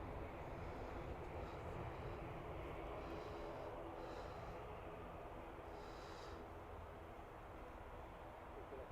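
Fixed-wing airplane on approach to land, a steady distant engine drone and rushing roar that holds at a low level throughout, with no sharp events.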